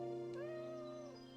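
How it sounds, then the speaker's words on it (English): In the video game Doraemon Story of Seasons, a cat gives a single drawn-out meow, clear and close over steady tonal background music. "Oh, kitty."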